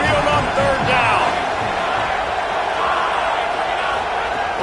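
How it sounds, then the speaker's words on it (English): A roaring stadium crowd at an Alabama Crimson Tide football game on third down, a dense, steady wall of cheering and yelling heard from within the stands without letup. "The Tide crowd rolling noise down on the Saban field on third down"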